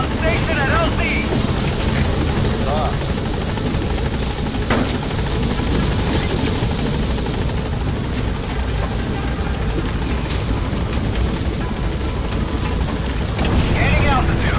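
A B-Quad helicopter from Metal Gear Solid V arrives and holds station at a landing zone, its loud, steady rotor wash and engine roar filling the scene without a break, with radio-style voice lines layered over it.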